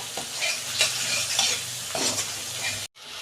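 Chana masala spices sautéing in a pan, a continuous close sizzle with irregular scraping stir strokes from a utensil against the pan, cut off by a brief break near the end, with no voices.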